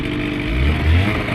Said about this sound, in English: Is that a motor I hear